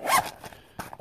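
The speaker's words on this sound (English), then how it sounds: "This zipper seals up, and you know, it's supposed to be a watertight seal there." A watertight-seal zipper on a Magpul bag pulled in one quick close rasp, then two small clicks and rustles afterward.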